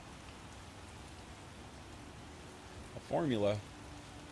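Steady, hissing rain falls throughout a scene in the video game The Witcher, a fairly quiet, even wash from start to end, with a short spoken phrase near the end.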